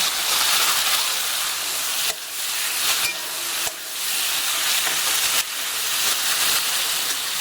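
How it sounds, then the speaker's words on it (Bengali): Tomato and dates fry in a pan, a loud, steady sizzling hiss that runs continuously, broken only by a few brief dips. "টমেটোটা প্রায় ভাজা হয়ে গেছে, এবার আমি এর মধ্যে একটু খেজুর দিয়ে দিলাম"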